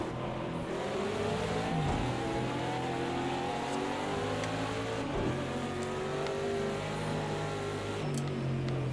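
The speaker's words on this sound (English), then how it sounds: "We got some fast cars coming in." Fast race cars roar past on the Texas Motor Speedway road course, engines sustained and loud throughout, with pitch sweeps as several cars pass close by in quick succession.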